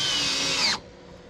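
A power drill whirs briefly as it drives a screw into deck boards on a cabin porch, its pitch winding down before it cuts off abruptly.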